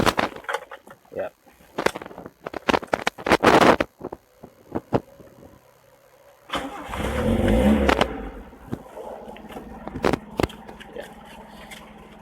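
A retro boxy Toyota Starlet engine revs up in a rising roar midway through an engine condition test, surrounded by clicks, handling noises and scattered talk.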